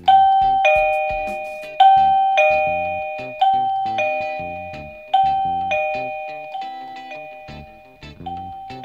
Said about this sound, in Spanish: Ahora lo que voy a hacer es darle el botón para que veáis cómo suena.